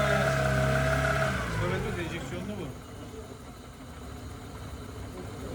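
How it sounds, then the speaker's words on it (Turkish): A Honda Civic engine with a freshly renewed motor idles steadily in a workshop, a continuous mid-pitched hum that settles lower after a couple of seconds, with people talking nearby. "Bir daha bırak rölantiye."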